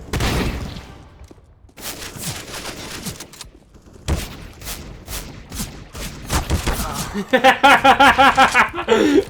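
A sawed-off shotgun fires on the Dust map in CS:GO as sharp blasts in irregular bursts with brief gaps between them. Voices talk and chuckle over the shooting.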